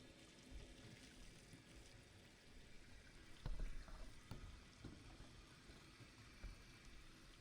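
Water runs from a bathtub faucet into a newly installed tub drain, a steady low pouring and trickling wash at close range with a few brief thumps and no voices.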